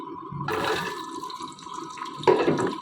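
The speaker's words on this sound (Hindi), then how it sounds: "ऑयल गर्म हो चुका है, अब हम डालेंगे बैंगन," Eggplant pieces dropped into hot cooking oil for frying, setting off a bright sizzling hiss that surges twice, first near the start and again toward the end, over a steady background hum.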